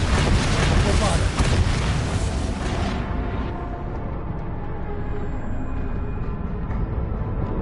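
A Bombarda blast spell goes off in the Hogwarts Legacy wizarding game as a loud, dense explosive boom that rolls into a long rumbling decay. Voices can be heard beneath it.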